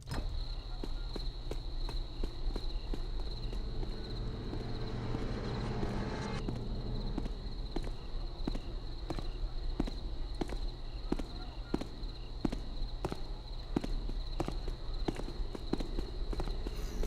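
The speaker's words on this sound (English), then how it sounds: "Your footsteps are louder when you run, and when you cross over loud floor surfaces such as metal" A sneaking player character in the stealth game Thief: Deadly Shadows takes steady, evenly spaced footsteps over a constant low ambient hum.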